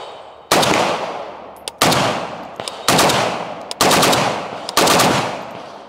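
AK-47 with a 16-inch barrel firing full-power 7.62 ammunition through a muzzle brake: five loud, sharp shots spaced about a second apart, each with a hard crack and a ringing decay that trails into the next.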